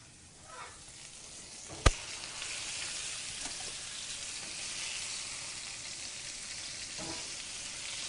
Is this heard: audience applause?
no